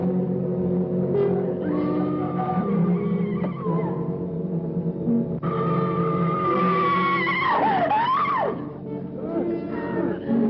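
A truck pulls away under a steady engine drone while tires squeal and skid in rising and falling streaks, with music and voices layered over the scene in a 1959 film.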